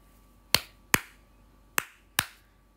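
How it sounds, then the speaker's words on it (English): Four sharp hand claps ring out in a quiet space, spaced in two pairs, each a crisp single strike with a brief decay. "O king, I shall clap. Let me clap."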